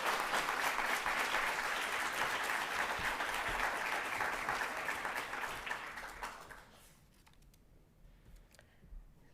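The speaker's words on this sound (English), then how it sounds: "Let's get another round of applause for Ms. Patricia." Audience applause fills a graduation celebration hall, sustained dense clapping from a large crowd that fades out toward the end, leaving quiet room tone with a few scattered claps.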